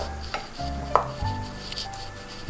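Chicken pieces being mixed with tomatoes in a bowl for Malaysian fried chicken, with soft wet squelches, dull thumps and one sharp clink of a utensil against the bowl, close and fairly quiet.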